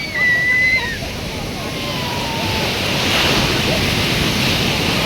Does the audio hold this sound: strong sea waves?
yes